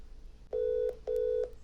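A telephone line sounds two sustained, evenly spaced electronic tone bursts with a short gap between them, clear and alone against a quiet background.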